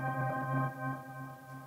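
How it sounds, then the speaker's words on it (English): A Glitter granular plugin plays every grain in reverse, making a soft, sustained tonal texture with gently swelling, backwards-sounding rises that pulse slowly at a fairly low level. "You can hear that backwards kind of effect."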